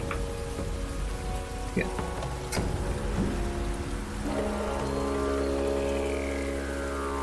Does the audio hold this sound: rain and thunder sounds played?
yes